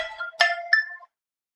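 Brief electronic chime of a phone ringing for an incoming AI call: two or three quick bright tonal notes lasting about a second, close and clear, then silence.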